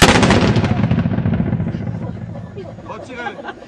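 A historical reenactment regiment fires a musket volley at Briançon in 2008: one loud, booming blast that fills the air and then rolls away in a long, fading rumble.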